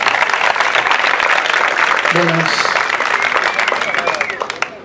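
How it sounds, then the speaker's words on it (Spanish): A poetry open-mic audience in a regional library applauds a poet with steady, dense clapping that fills the room for about five seconds, while a voice briefly speaks over it. "Un aplauso para el"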